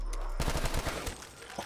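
A gun firing in a shooter video game, a rapid burst of repeated shots starting abruptly after a brief quiet, fairly loud and close, thinning out toward the end.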